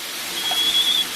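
A cast iron waffle iron's alarm sounds as a steady high electronic tone lasting under a second, fairly quiet over a faint kitchen background hiss.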